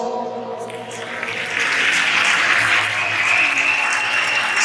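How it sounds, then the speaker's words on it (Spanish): Applause at a sports gala trophy presentation, a broad steady clapping that swells and holds at moderate loudness over a low background hum. "fuerte aplauso"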